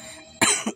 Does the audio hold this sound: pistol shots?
no